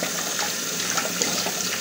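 Tap water running steadily into a sink while the sink and a shaving brush are rinsed, a continuous close splashing flow at even loudness.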